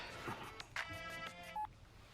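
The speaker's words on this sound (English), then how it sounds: "Her phone's been ringing nonstop." A phone gives off a string of short electronic tones and beeps in an indoor drama scene, fairly clear with no talking over them.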